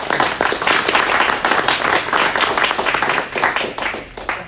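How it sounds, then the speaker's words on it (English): Audience applause fills a conference hall at a data and AI awards event as Professor Toby Walsh is welcomed, a dense, steady wash of many hands clapping close and loud, tapering slightly at the end. "Let's applaud him."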